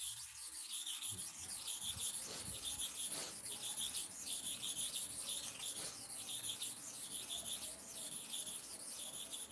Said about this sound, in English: I'm sharpening to cover the whole surface of the stone